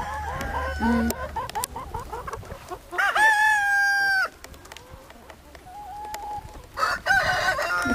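Hens on a Prekmurje farm holding about a thousand birds cluck in quick repeated bursts, joined by a loud drawn-out rooster crow in the middle and more scattered calls afterward, close and lively with no talk.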